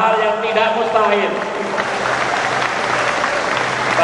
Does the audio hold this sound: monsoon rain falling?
no